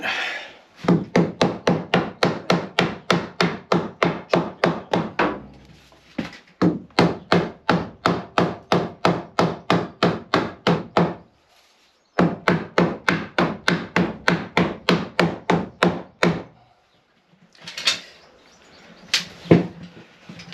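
Wooden French door parts are knocked into place with steady, rapid hammer taps, three long runs of evenly spaced sharp blows separated by short pauses, followed by a few scattered softer knocks and scrapes.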